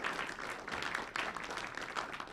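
Audience applause after artists perform at a church service, a steady, moderately quiet wash of many hands clapping that holds evenly through the short stretch.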